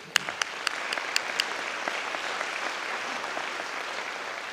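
Audience applause at a diversity, equity and inclusion conference, a few crisp claps up front at first, then a soft, distant patter of many hands that continues at a low level.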